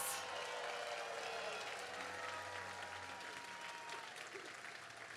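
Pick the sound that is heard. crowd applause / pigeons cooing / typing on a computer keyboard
crowd applause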